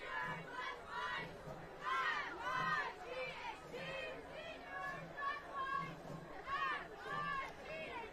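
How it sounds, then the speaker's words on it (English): Crowd in the stands at a Peabody vs Beverly high school varsity football game, a steady roar of cheering and shouting voices with rising swells, heard at a distance. "Again, another great crowd tonight"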